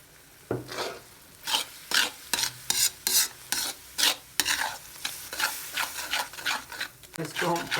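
An egg tikki mixture with added yogurt roasts in a pan, heard as a rhythmic run of close scraping stirring strokes over a soft frying sizzle, with no talking.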